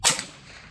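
A single sharp crack from an MP5 .22LR rifle firing at a target: a close, loud report that decays quickly with no talk.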